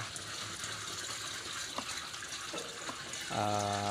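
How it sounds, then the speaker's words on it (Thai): Plain water gushes steadily into a 16-litre pesticide sprayer tank for durian trees, a constant close pour whose tone rises sharply near the end as the tank fills. "ก่อนอื่น อันดับแรกเราก็เทน้ำน้ำเปล่าครับ น้ำเปล่าลงในถังที่เราจะพ่นยา"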